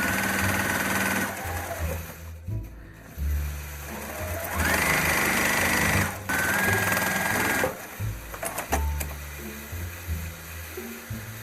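A long-arm quilting machine sews a basting stitch through a scrappy quilt with batting: a steady mechanical motor hum and rapid needle chatter that stops, restarts and changes pitch, loud and close throughout.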